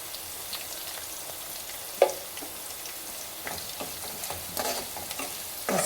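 Browned onions with a spoon of turmeric cooking in oil in a pan, giving a soft, low sizzle with occasional light scrapes and clinks from stirring, fairly quiet and close.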